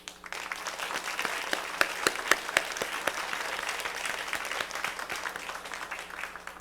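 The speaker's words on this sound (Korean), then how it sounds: "박수로 축복하겠습니다." Inside a church, the congregation bursts into applause for a newly married bride and groom, a dense, even round of clapping with crisp individual claps at moderate distance, lasting several seconds over a low steady hum.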